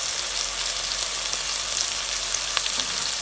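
Onion, green chilli and ginger-garlic paste sauté in hot oil for ghee rice, making a loud, dense, continuous sizzle with a brief scrape near the end.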